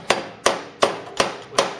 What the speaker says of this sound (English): So what we've done is used a ball peen hammer and